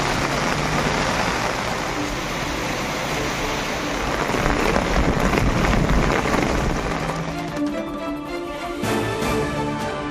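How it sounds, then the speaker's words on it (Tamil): Heavy rain in Tiruchengode pours down steadily, a dense loud roar of falling water on flooded roads, continuous for the whole stretch with no voices. "திருச்செங்கோட்டில் கனமழையால் குளம்போல் மாறிய சாலைகள்."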